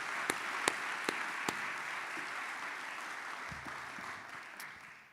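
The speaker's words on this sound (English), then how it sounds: "Everybody give a congratulatory round of applause for Macy Brown from Henderson," An audience at an alumni hall of fame ceremony applauds at moderate distance, a soft steady patter of clapping with a few louder individual claps early on, fading gently toward the end.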